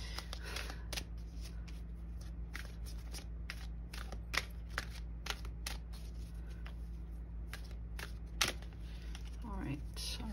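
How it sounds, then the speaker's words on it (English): Fairy Oracle cards shuffled by hand in a steady run of soft, close riffles and slaps over a constant low hum, with no talk. "My knee, I don't know how to shuffle today."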